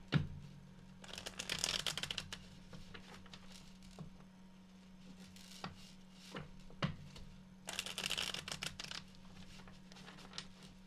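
Two bursts of riffling as a deck of tarot cards is shuffled, separated by quiet, with soft taps and handling sounds between them and a steady low hum underneath.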